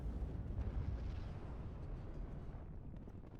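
Artillery shell explosions in the video game Warno, a dense rumbling low roar of blasts rolling together and slowly fading, loud and continuous without separate sharp bangs.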